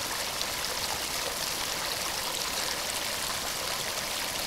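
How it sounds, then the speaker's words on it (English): Steady rushing and trickling of a creek over rocks, a continuous bright hiss of moving water with no voices. "The creek that goes by my camp."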